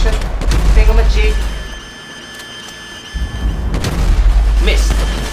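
Gunfire and booms in Grand Theft Auto V, heavy blasts and volleys of shots that fade to a quieter stretch before resuming loudly, with a voice talking over parts of it.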